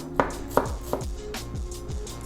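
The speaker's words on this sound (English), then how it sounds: "Just want to slice it thinly." Knife thinly slicing an onion on a cutting board: about six crisp, evenly spaced chops, close and fairly loud, with no talking.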